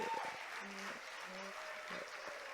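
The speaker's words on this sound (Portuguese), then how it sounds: "Vamos aplaudir ao Senhor pela vida da Flor." Soft, distant clapping from a church congregation applauding during a worship service, faint and continuous, with brief tones from an instrument or voice showing through.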